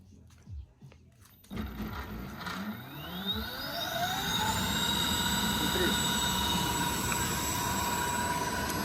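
An electric moped motor run from a Mybro controller board during a bench test spins up with a rising whine that settles into a steady, loud hum, with voices talking early on.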